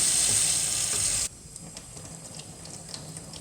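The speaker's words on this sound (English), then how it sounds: "you need to turn the water on" Water runs from a sink tap with a loud, steady hiss for just over a second, then cuts off abruptly, leaving faint drips and small clicks.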